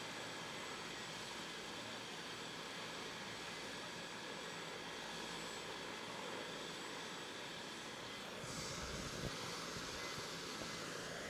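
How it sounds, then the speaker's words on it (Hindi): Helicopter taking off near Bambu village close to Sandwa in Rajasthan, a steady broadband engine and rotor roar holding at an even level that rises slightly toward the end, heard without speech. "किस तरह से यहाँ पर हेलीकॉप्टर उड़ान भरेगा"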